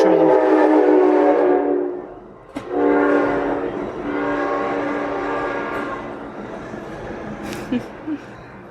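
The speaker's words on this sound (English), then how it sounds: "The train's just gone by." A train passes nearby, sounding a long, loud multi-tone horn blast, then a second extended horn over rumbling wheels that gradually fade, with a few faint clanks at the end.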